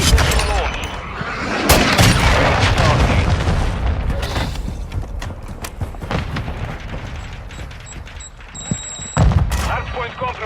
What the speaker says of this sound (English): Hostile cruise missile launched.